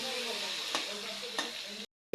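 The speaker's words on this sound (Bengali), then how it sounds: "আলুগুলো আমি লাল লাল করে বেশ করে ভেজে নেব।" Potatoes seasoned with turmeric and salt fry in a pan with a steady, close sizzle, broken by two brief stirring scrapes before the sound cuts off near the end.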